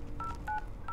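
An Apple Watch SE plays three short, evenly spaced DTMF dialing tones while placing a phone call, clear over a steady background hum.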